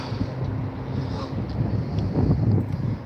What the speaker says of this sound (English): now my wind is kicking up, and that's gonna irritate the hell out of me